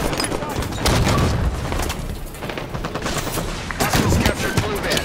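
Rapid gunfire and booming blasts in a Halo 5 arena match, including a rocket launcher, a dense burst-heavy battle soundscape that swells and fades, loud and close.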